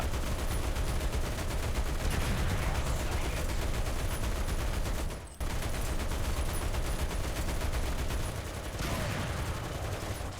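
Tank gunfire in the War Thunder video game during an M4A2 tank battle: loud, dense, continuous rattling fire with a brief dropout midway, and no voices.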